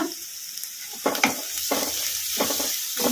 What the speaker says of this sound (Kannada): ಫ್ರೈ ಮಾಡ್ಕೊಂಬಿಡೋಣ ಹೈ ಫ್ಲೇಮಲ್ಲಿ